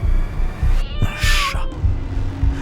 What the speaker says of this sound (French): Un chat est entré par le soupirail.